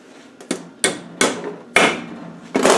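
Five sharp hammer taps on the metal bolts of a vehicle axle swivel ball, spaced irregularly about half a second apart, close and fairly loud with a short ring after each.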